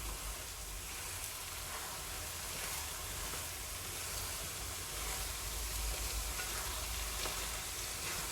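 Mash dal roasting in a pan gives off a steady, faint sizzling hiss, continuous and even, with only a soft stir now and then and no voices.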